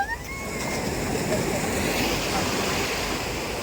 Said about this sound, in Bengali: কি সুন্দর ঢেউ আসছে দেখেছো